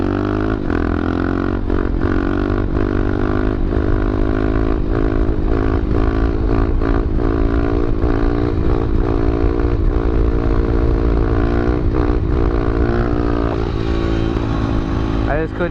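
A pit bike engine revs hard and continuously during wheelies, a loud, buzzing motor with the pitch wavering as the throttle shifts, while a person talks over it.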